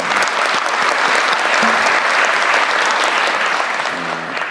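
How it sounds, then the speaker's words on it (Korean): A large audience claps steadily at a public gathering, a dense, loud, continuous wash of applause with no breaks. "박수 한번 감사합니다."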